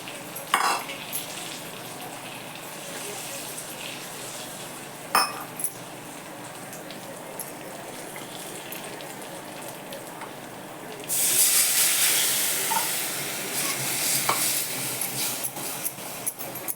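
Kadhi of curd and gram flour being stirred in a pan, with a steady soft bubbling sizzle, scraping strokes and occasional spoon clinks against the pan, growing louder and brighter near the end.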